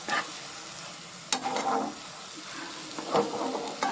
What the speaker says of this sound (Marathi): हे वाटण मी याच्यावर घालून परतून घेणार आहे हे बघा हे अशा पद्धतीनं हे आपल्याला परतत राहायचं आहे